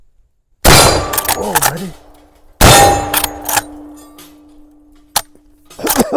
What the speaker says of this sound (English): See if we can get off a few shots.